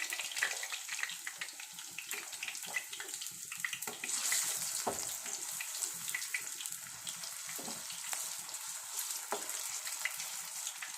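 Onion vadas fry in a little oil in a pan, a steady close sizzle with scattered crackles and pops, plus a few faint knocks partway through, and no talking.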